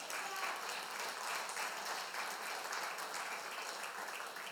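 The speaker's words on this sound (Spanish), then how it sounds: "Damos un aplauso al Señor." A church congregation applauds in steady, even clapping, heard at a distance and fairly quiet, during a Spanish-language sermon.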